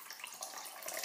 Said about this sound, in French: Et ensuite, je rajoute de l'eau.